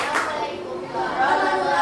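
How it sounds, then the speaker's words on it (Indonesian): University students in a classroom clap for the final presenting group, a short, fairly loud burst of many hands with chatter mixed in. "Kasih tepuk tangan buat kelompok terakhir, kelompok 5."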